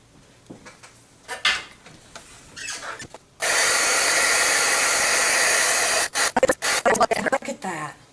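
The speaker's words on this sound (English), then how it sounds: "Now, let's get the heat tool." A heat tool blasts a steady loud whoosh while melting embossing powder in a paper-crafting project, running alone for about three seconds between stretches of quiet speech and light handling clatter.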